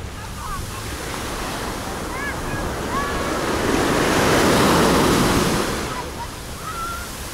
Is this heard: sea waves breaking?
yes